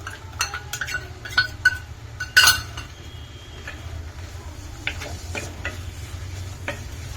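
A spoon stirs carrot halwa in a pan after crushed cardamom and nuts go in, giving a series of scraping stirs with sharp clinks and taps of metal against the pan, moderately close, with no voices.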